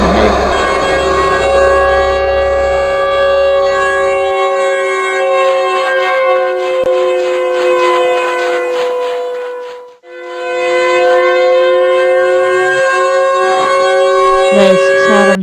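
Siren Head from the Roblox game wails with a loud, sustained civil-defense-style siren tone that dips once midway, then rises and holds again.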